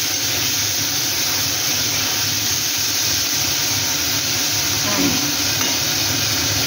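Potatoes frying in oil in a pan for a greens, potato and eggplant curry, a steady loud sizzle and hiss throughout with a brief scraping stir near the end.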